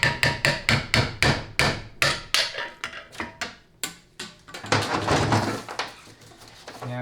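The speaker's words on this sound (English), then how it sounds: "Had to take the bigger hammer and flip it inverted." Repeated metal hammer blows ring out on a 4L65E automatic transmission center support during teardown, a quick run of sharp, loud strikes that thin out, then a denser flurry of hits near the end, with no talking.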